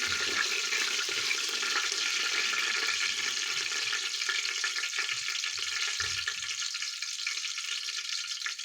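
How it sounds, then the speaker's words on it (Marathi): Mustard seeds and cumin spluttering in hot oil for masala bhaat, a steady bright hiss of frying that runs continuously and close with faint crackles underneath. "मोहरी आणि जिरे आहे ते थोडंसं फुलू द्यायचं आहे"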